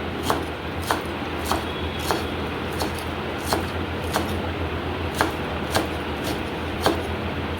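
Punarnava leaves chopped with a knife, about a dozen evenly spaced crisp chops against a steady low hum, with no talking.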